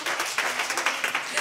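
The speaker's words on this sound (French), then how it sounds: "Est-ce qu'on peut applaudir, s'il vous plaît?" Audience applause during a youth group church service, steady overlapping clapping throughout at moderate level without a clear break.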